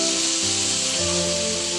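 Tomatoes sautéing with ginger-garlic paste in a hot pan, giving a steady, dense sizzle with the soft scrape of stirring throughout, no voices.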